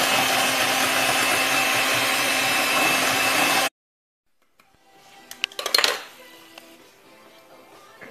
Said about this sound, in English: now you're going to beat all the ingredients until fully combined